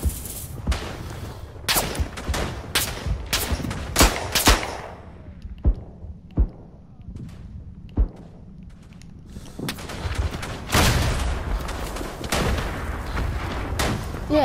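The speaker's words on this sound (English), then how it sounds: "Fire the mortar shell." Mortar shell blasts and rifle gunfire in the World War I video game Verdun: sharp shots and booms crack out irregularly, some close and loud, others distant, over a steady battlefield rumble.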